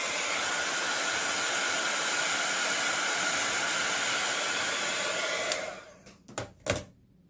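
A hair dryer blows steadily and loudly at close range while painted seashells dry, running for about five seconds before switching off, followed by a few short knocks and clicks in the quiet afterward.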